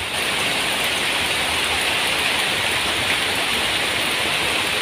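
Steady heavy rain pours down outdoors in the rainy season around an exposed coconut bonsai, a dense, even hiss close by with no voices.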